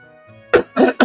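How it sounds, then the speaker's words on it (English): A person clears their throat in three quick, harsh bursts close to the microphone, after a brief low hum. "Clear my throat."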